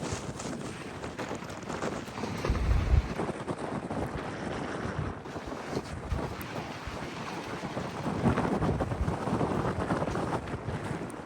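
High winds at Bethany Beach roar and buffet the microphone in a dense, continuous rush, swelling in stronger gusts, with surf noise blended underneath and no talking.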